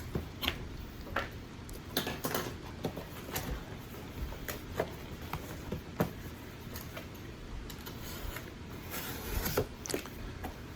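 Cardboard box flaps being cut down to size while packing electronics for shipping, a run of dry, irregular snips and crinkly scrapes close by with no voice.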